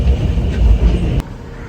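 Interior of a moving local metro train in cold weather, a loud continuous low rumble with rattling, which drops abruptly to a quieter hum after a sharp click.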